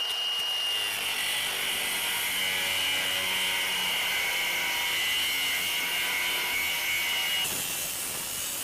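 A Sawzall reciprocating saw cuts through a metal bar on a cattle squeeze chute with a continuous loud buzzing rasp that holds steady for several seconds before easing off near the end.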